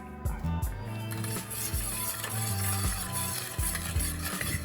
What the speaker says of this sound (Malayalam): മുട്ട നല്ലവണ്ണം ഇളക്കുക